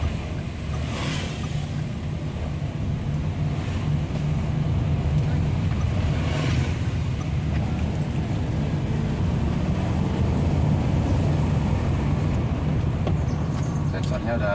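Daihatsu Rocky fitted with an auto clutch pulling away uphill, its engine a steady broadband drone with road and wind rumble throughout, with no clear change in pace over the stretch.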